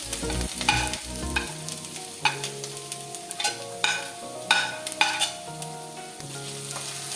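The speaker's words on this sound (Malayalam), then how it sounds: "ഇനി നമുക്ക് ആദ്യം ഇതിലേക്ക് ഇഞ്ചി അരിഞ്ഞത് ഇട്ട് കൊടുക്കാം." Chopped ginger frying in coconut oil in a pan for an Onam ginger curry, a steady close sizzle broken by repeated stirring scrapes, with no voices.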